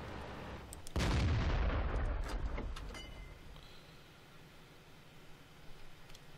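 A World of Tanks tank cannon fires one loud, close blast that rolls into a long decaying rumble, followed by quieter mechanical clanks and whirring of the vehicle.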